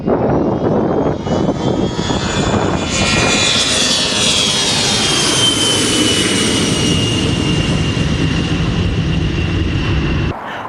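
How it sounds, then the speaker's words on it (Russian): A Be-200 amphibious aircraft roars loudly overhead during a wildfire water drop, the engine noise swelling and sweeping past in a continuous dense rush before cutting off abruptly. "Также в Сунтарском районе самолетом-амфибией Би-200 слито"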